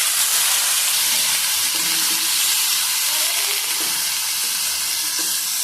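Chopped onions sizzle loudly in hot oil with bay leaf, dried chilli and garam masala for egg curry, a dense continuous hiss close by with faint stirring underneath, no talking.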